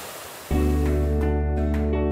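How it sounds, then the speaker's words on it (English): A river flows nicely on a bright day among green surroundings, a steady, loud broadband rush with a faint tonal hum beneath it. "You could even see the river flowing nicely."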